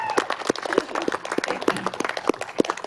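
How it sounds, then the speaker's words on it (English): Audience at a community speaking event applauding a Scout troop, a small scattering of separate claps rather than a full ovation, fairly quiet and in the middle distance. "a big round of applause for the Scouts of Troop 110"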